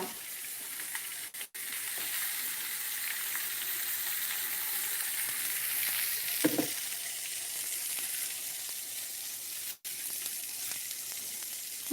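Potatoes fry in a pan with a steady, even sizzle and hiss throughout, briefly interrupted by a couple of short gaps and a soft clunk midway.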